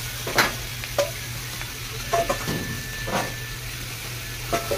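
Seafood hits a very hot wok for garlic butter seafood, giving a bright continuous sizzle with sharp spatter bursts and stirring scrapes, close and fairly loud.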